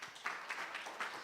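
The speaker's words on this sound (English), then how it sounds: "Give him a big round of applause" Faint, brief clapping from a conference audience welcoming the next speaker in a talk room, with soft, steady claps for just over a second.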